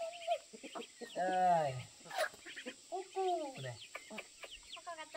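Farmyard chickens cluck and croon in repeated drawn-out calls close by, mixed with short voices from people nearby.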